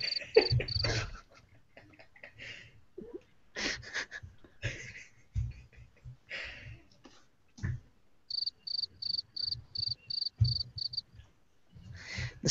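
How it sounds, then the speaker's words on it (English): A cricket chirps close and loud in a run of short, evenly spaced high trills, broken up by breathy, rustling noises and brief low thumps. "The sound quality of that cricket is amazing."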